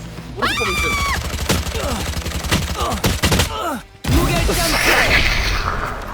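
Rapid bursts of gunfire in a shooting video game, loud repeated automatic volleys with sharp single shots and a short break, mixed with game effects and voices.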